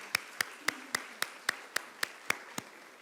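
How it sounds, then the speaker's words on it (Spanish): Slow, sparse clapping after a plenary talk at a conference on UNESCO's recommendation on the ethics of artificial intelligence, about ten evenly spaced claps like one pair of hands, fairly close and isolated. "Le extendemos un fuerte aplauso."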